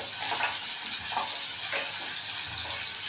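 Onion sautéing in a pan for a bottle gourd dish, a constant dense sizzle close by, with soft stirring scrapes now and then.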